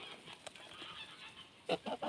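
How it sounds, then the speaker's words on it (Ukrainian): Three honking calls from geese in quick succession near the end, after a stretch of quiet outdoor background noise. "Гусей."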